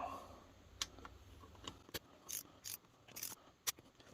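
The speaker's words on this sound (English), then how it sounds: "I like to go cross pattern, torque them all down." Torque wrench tightening cylinder bolts on a Yamaha GP1300R engine: a few faint, scattered ratcheting clicks and short mechanical rasps, quiet and close, with no talk.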